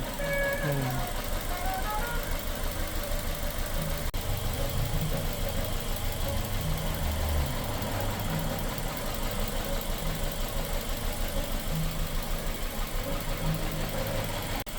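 A car with an emissions fault and dropping power and fuel economy idles roughly and shakes, a steady loud engine drone with uneven pulsing throughout, while a person talks over it.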